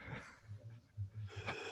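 A voice imitates heavy breathing down a phone line, giving a few close, rough, snorting breaths and wheezy exhales with short pauses between them.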